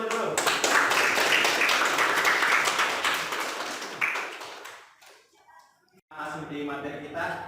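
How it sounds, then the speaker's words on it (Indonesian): A dense burst of group clapping fills the first few seconds, then thins out and fades, with voices returning near the end. "Ya, tepuk tangan dulu."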